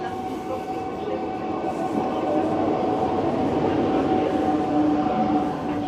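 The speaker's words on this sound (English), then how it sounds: "the train is going to go off about its journey" A Russian Ivolga 4.0 electric train rumbles and hums steadily as it pulls away, a constant electric whine over rolling wheel noise, growing slightly louder.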